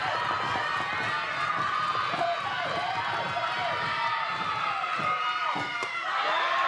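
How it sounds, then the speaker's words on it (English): A softball team's dugout cheers and shouts steadily throughout, a continuous crowd-like roar of voices with rising yells, heard at a moderate distance. "you can hear the Providence dugout making noise"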